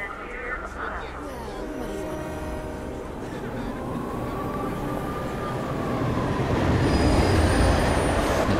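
A train passes a station in the video game Hitman: Absolution, a loud rumbling roll with a long metallic wheel squeal that swells as it goes by, under game sound and voices.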